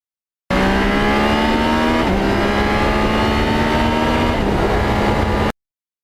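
A 1989 Kawasaki GPX750R motorcycle fitted with a Muzzy muffler revs loud and close, its engine note holding steady, dipping briefly, then climbing again in a continuous raspy drone with no voices.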